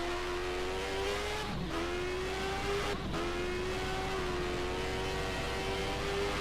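A 1991 Formula 1 car screams flat out down the straight at the Spanish Grand Prix. The high, steady engine wail is broken by two quick gear-change dips.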